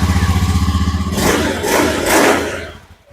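A Honda Beat motorcycle engine, adjusted at idle, putters in a steady rhythmic idle, then revs up in two rising surges before dropping back, loud and close.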